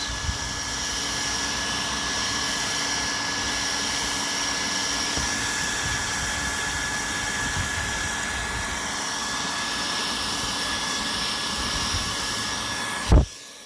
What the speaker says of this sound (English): this heat gun gets heavy after a while